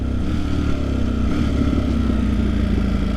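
A Ducati Streetfighter V4 motorcycle engine and exhaust running steadily nearby, a loud, continuous low rumble with a slight rise in tone, no speech.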